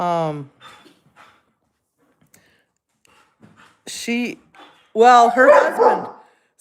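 A dog barks in short bursts indoors, a sharp bark at the start, a couple more a few seconds later and a louder, rougher run of barks near the end, with faint sounds in the quiet gaps.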